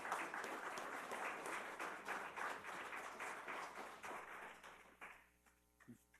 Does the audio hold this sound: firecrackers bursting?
no